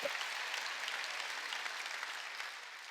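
A crowd claps steadily in a dense, even burst of applause that carries on without a break and fades slightly at the end.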